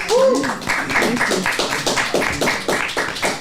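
An audience gives a brief round of clapping, a quick irregular patter of hands at moderate distance, opening under a short spoken exclamation.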